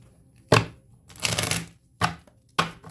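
Tarot cards are shuffled in a few distinct bursts: a sharp riffle, a longer rustling shuffle, then two more quick snaps, close and fairly loud, with no talking.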